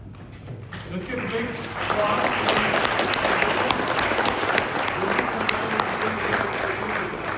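An audience at a candidate forum claps loudly and continuously, building from a few scattered claps into sustained applause with some talk mixed in.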